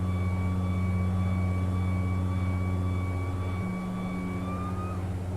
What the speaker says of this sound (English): we'll let her take off on her when she's ready